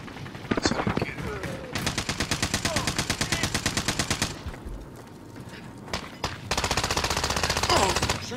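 Rapid automatic gunfire in the shooter Warzone rattles in long sustained bursts with brief pauses between them, loud and close, while voices talk faintly underneath.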